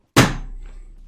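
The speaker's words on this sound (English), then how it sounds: "Can we hear you banging the desk?" A single hard thump on a desk, sudden and close, then a short decay into near silence.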